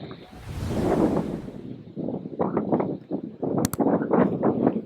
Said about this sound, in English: I normally take one bigger, but a lot of wind today.